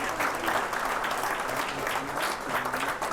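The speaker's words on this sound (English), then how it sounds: "Let's give Mayor Tim Worley another round of applause." Audience applause for Mayor Tim Worley at the City of Taylor State of the City presentation, a steady, dense clapping from a large crowd that fills the whole stretch at even strength.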